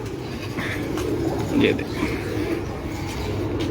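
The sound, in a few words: pigeons cooing, Lal Pari breed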